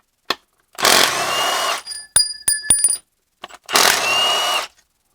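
Power tool loosening oil pan bolts on a BMW E90 N54 during an oil pan gasket job, two loud close bursts of about a second each with sharp metallic clicks and ratchet taps between them.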